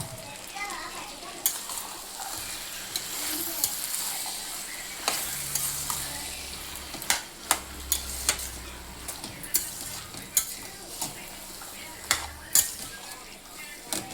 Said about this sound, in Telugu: బఠానీ యాడ్ చేస్తున్నాను